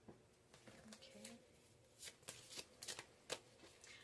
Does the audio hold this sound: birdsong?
no